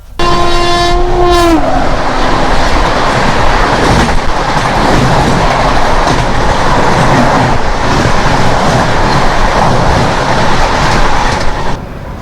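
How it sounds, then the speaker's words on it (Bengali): The Indore Howrah Shipra Express, train 22911, sounds a short horn blast, then roars past close by with loud, continuous wheel rumble and clatter. "এবার আমাদের সাথে দেখা হবে ট্রেন নাম্বার বাইশ হাজার নশো এগারো ইন্দোর হাওড়া শিপ্রা এক্সপ্রেসের সাথে"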